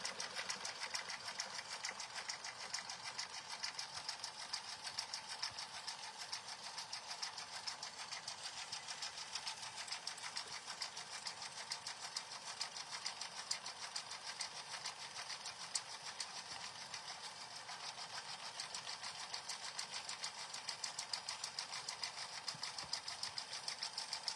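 A sewing machine runs steadily through a fabric notebook cover, a fast, continuous even whir of stitching held for the whole stretch, close and uninterrupted with no talk.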